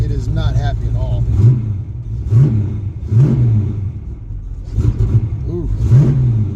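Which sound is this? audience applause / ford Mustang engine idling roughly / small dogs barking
ford Mustang engine idling roughly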